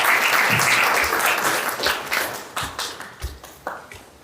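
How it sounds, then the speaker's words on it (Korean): An audience applauds at a Busan citizens' public forum on political rights and free expression for public officials and teachers. The clapping is dense and steady at first, then thins into scattered individual claps as it tapers off. "박수 만들어 주세요"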